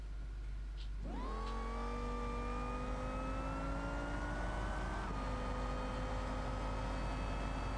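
Car in BeamNG accelerating hard with nitrous engaged, the engine note rising sharply then holding a loud, steady high whine with a brief shift in pitch partway through, close and alone.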